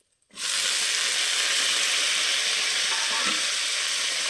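Leafy greens drop into a pan of lightly fried potato and eggplant and set off a sudden loud, continuous sizzle that holds steady throughout, with faint stirring underneath.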